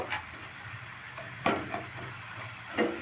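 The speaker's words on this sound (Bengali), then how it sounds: "দেখো একদম ভাজা হয়ে যাচ্ছে" Homemade crisp potato chips frying in hot oil give a steady low sizzle, broken by a few sharp stirring clatters near the start, middle and end.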